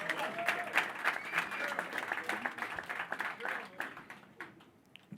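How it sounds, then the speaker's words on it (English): Audience applause at a boxing final press conference, a steady patter of many hands clapping from a seated crowd in a hall, fading toward the end with a voice briefly heard. "you could clap for that."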